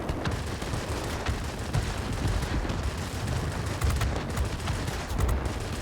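Anti-aircraft gunfire in the World of Warplanes video game, a dense continuous barrage of rapid bursts and booms with no gaps, loud and steady throughout.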